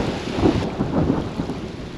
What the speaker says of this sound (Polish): wygląda na to, że jestem na skraju tej burzy.